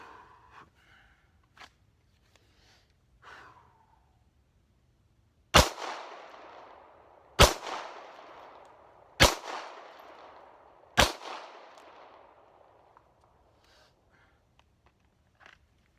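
Four sharp handgun shots are fired weak hand only from the holster on an outdoor range drill. They come evenly spaced about two seconds apart, and each crack trails off in a short echo over quiet background.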